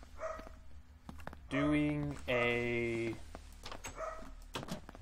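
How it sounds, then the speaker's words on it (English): A dog barks in two long, loud, drawn-out howling bursts in the middle, with a person talking before and after and keyboard typing in the background. "This dog won't shut up for some reason."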